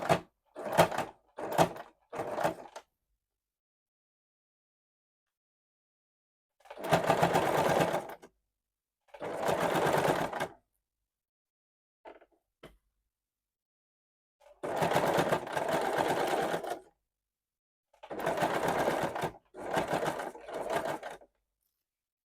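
A sewing machine stitches piping onto the neckline of an old blouse through green cloth in several separate bursts of steady whirring. Each burst lasts a second to two and a half seconds and is separated by silent pauses, close and with no talking.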